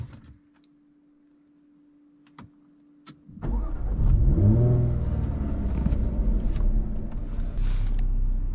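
A 2017 Jaguar F-Type starts up after a quiet pause: a brief whirr, then the engine catches with a loud rising rumble that settles into a steady, deep idle.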